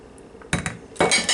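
Red and green grapes stirred together in a bowl with a creamy dressing, giving two short bursts of clinking and rattling against the dish, close and fairly loud, with a quiet pause between them.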